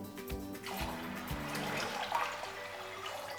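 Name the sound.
water poured from a jug into a cooking pot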